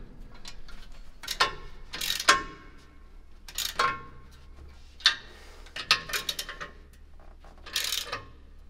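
The BESA machine gun mount on a Churchill tank model is worked back and forth, giving a series of small close ratcheting clicks and plastic mechanism rattles in separate bursts with quiet gaps between.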